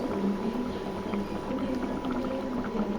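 A pot of curry simmering on the stove, a steady low bubbling and gentle liquid burble heard up close with no voices.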